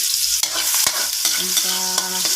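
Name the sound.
sautéing crushed ginger and aromatics in a pan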